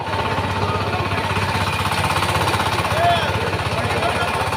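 A tractor engine runs steadily with a loud, rattling chug that never lets up, and voices are faintly mixed in.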